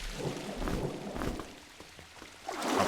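Water sloshes and churns in a dungeon in Legend of Grimrock 2, a rushing, splashing wash that swells, fades and surges again, close and moderately loud with no talk.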